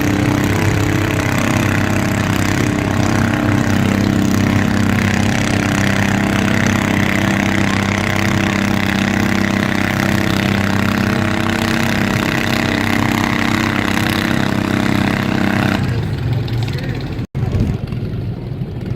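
A twin-cylinder garden tractor with exhaust pipes idles at a county fair with a steady, throaty, car-like rumble, loud and close, until the engine cuts off near the end against a background of crowd chatter.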